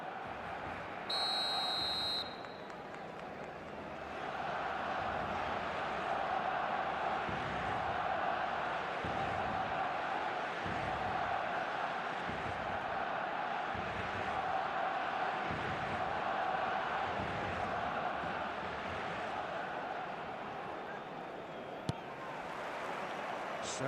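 Dense, steady stadium crowd roar before kick-off in an eFootball 2025 El Clasico match between Barcelona and Real Madrid, continuous and moderately loud, with a short electronic tone at the start and a commentator's voice over it.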